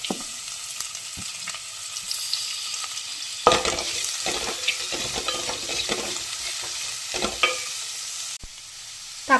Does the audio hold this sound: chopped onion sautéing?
yes